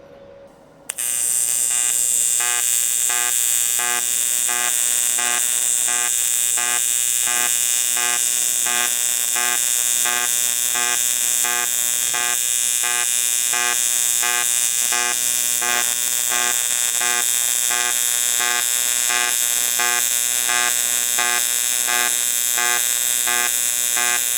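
Budget AC/DC TIG welder running with an unbalanced pulse, a loud, steady buzzing arc rich in harmonics that starts abruptly and holds continuously, alone and close.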